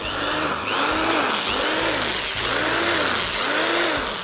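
An Attlas Eco Point 500 electric drill whines steadily and loudly, its motor pitch rising and falling in repeated cycles as it speeds up.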